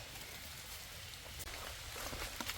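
Light rain falls steadily in a forest during mushroom picking, a soft, dense hiss of drops close by with a few slightly louder taps, alone without voices.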